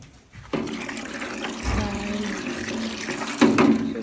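Water is poured into a container in a barn for animals: a steady rushing splash that starts abruptly, runs for a few seconds and surges louder near the end, close to the microphone.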